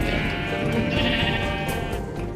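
Blocky Minecraft sheep bleat near a farm pen, a steady nasal wavering baa that sustains through the short stretch at moderate loudness with no talking.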